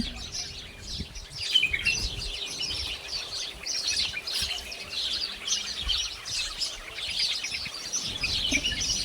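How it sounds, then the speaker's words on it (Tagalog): A crowd of small birds chirping busily in a tree, constant overlapping high tweets close by with a soft flutter of wings as some fly off, no talking heard. "Ang ibon nagsiliparan."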